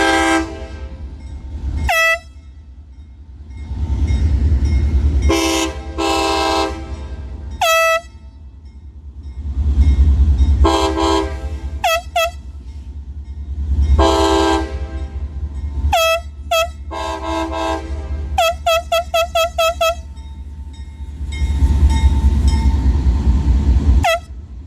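CSX 7014 locomotive heading eastbound sounds a series of loud air horn blasts, long and short, over the heavy low rumble of the passing train.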